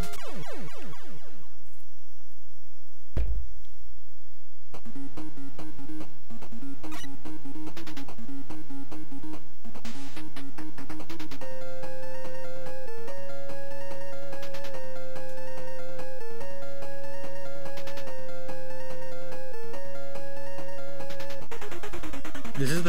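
Stage music from the Mega Man video game, a loud, busy chiptune track with driving, repetitive melodic lines and percussive blips, playing continuously with no voices.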